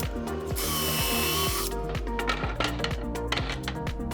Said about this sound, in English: I'll be also using an 1 5/8" pocket hole screws to join everything.